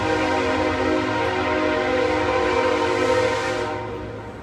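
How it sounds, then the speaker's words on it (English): A passing train blares its horn steadily at a nearby road intersection, a loud sustained multi-tone blast that holds for several seconds before starting to fade, with no talking over it. "It's passed by now, but the intersection's right there, so it just blares."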